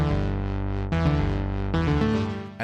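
Rhythm synth doubling a guitar part in a game soundtrack, playing steady sustained chords with a thick distorted edge, chords shifting twice across a continuous loud passage with no talking.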